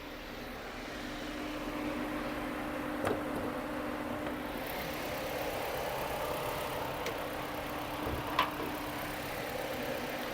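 A Ford Fusion engine idles with a steady low hum and whirring cooling fans running for the air conditioning, fairly quiet, with a couple of faint clicks.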